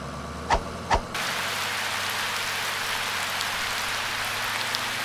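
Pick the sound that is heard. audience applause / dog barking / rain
rain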